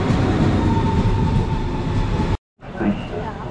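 A train rumbles steadily nearby at Lindau in Bavaria, Germany, with a low mechanical drone and a faint steady tone, cut by a brief silence before the rumble resumes.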